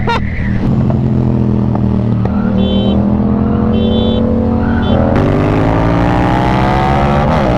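A loud engine drones steadily as a car approaches, its pitch climbing and revving near the end, with brief high electronic beeps over it, heard from a Yamaha MT-07 motorcycle ride.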